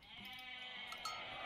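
Goats in the Age of Mythology video game bleat in a quavering, drawn-out call, faint and heard over steady background game sound.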